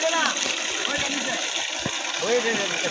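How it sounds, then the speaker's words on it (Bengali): Water gushes from the outlet of a battery-free solar irrigation pump used for farming, a steady splashing rush that stays loud and close throughout, with a few brief voice-like sounds mixed into the flow. "একদম পরিষ্কার পানি আসছে"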